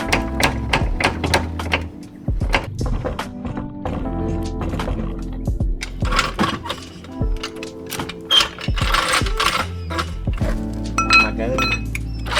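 Metallic clunks, ratcheting and knocks come from work on a Proton Saga 4G93 gearbox being lowered out of the car at home. The close mechanical sounds are irregular and loud, with a voice speaking over them.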